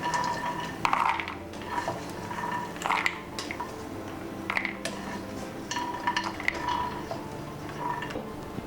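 Phool makhana (fox nuts) are lightly fried in a pan, with a quiet run of metallic clinks and scrapes from stirring and a faint sizzle underneath.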